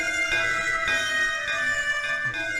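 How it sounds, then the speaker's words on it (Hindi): Metal bell in a Hindi film scene struck repeatedly in a quick, uneven rhythm, each ring bright and sustained with overtones that overlap into a continuous clanging. "वो देखिए, वो घंटी बजा रही है।"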